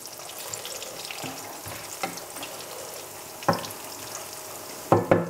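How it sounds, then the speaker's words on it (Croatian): Bacon fries in a pan with a steady close sizzle, broken by a few sharp pops and scraping clatters near the end. "Evo, slanina se ispržila, nju ćemo isključiti."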